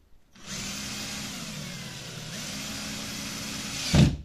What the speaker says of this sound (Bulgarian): започваме или с отверка, или с винтоверчето тук да навиваме тия винтове, които са горе и долу